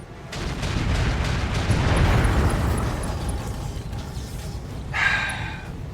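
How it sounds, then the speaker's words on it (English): Rumbling destruction in the mech game RogueTech as turrets and buildings collapse, a broad roar swelling and fading over several seconds with a sharper crash near the end. "now that the turrets are falling, the buildings are going to start getting destroyed"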